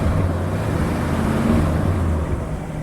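A 1966 Ford Galaxie 7 Litre with a 428 engine runs close by in a steady, loud low rumble, swelling slightly midway before settling back.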